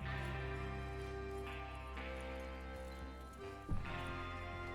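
Horses ridden in the video game Red Dead Redemption 2, a steady rhythmic clip-clop of hooves under a dense, loud game soundtrack and rumble, with one brief louder knock near the end.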